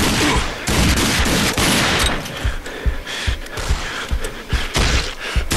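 Repeated gunfire in the first-person shooter Rage: a fast fusillade of loud, close shots and thuds in uneven bursts, filling the whole stretch.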